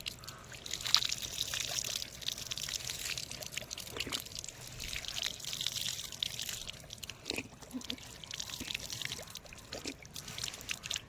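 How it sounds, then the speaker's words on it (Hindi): Mountain water trickling and pouring steadily, a continuous close splashing flow with small drips and sips mixed in, no talking. "तो दोस्तों यहाँ पर पानी है, तो मैंने सोचा थोड़ा सा पानी पी लेती हूँ"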